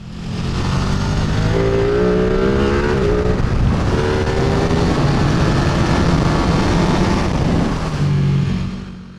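A 2022 Ducati Streetfighter V2 naked motorcycle engine roars loud and close while riding, holding a steady throaty drone with shifting revs and strong wind rush throughout.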